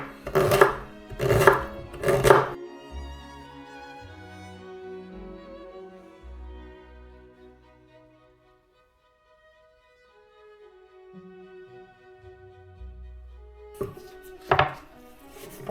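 Three sharp knife chops on a cutting board as a parsnip is diced, evenly spaced and close, followed by a long quiet stretch of low kitchen clatter and a final pair of chops.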